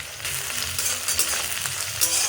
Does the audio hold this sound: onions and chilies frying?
yes